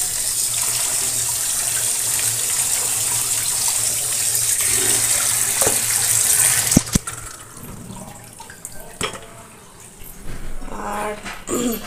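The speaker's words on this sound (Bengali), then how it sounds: "ঠান্ডা জল দিয়ে দিলাম" Cold tap water runs in a steady close hiss over soaked chow mein noodles in a kitchen, then stops with a few clunks and clatters from handled dishes.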